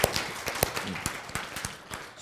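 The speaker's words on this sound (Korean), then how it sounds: "박수" Light, scattered clapping from a small audience at a Bible lecture, a handful of distinct claps spread over a couple of seconds, fairly faint.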